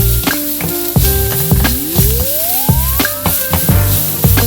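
Red onions sweating in a frying pan, a loud close sizzle with rhythmic stirring knocks and a rising whine running underneath, and no one speaking.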